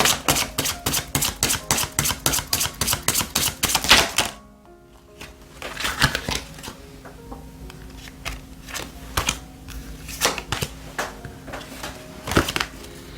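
Tarot cards being shuffled in rapid rhythmic riffles for about four seconds, followed by a pause and then scattered, softer card flicks and taps, close and fairly loud with no talking.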